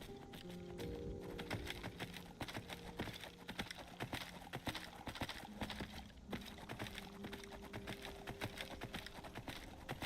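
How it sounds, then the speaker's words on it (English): A horse clip-clopping in Skyrim, a steady run of hoof clops under music and in-game sound, moderately loud and continuous for about ten seconds. "just clippy cloppy horse here"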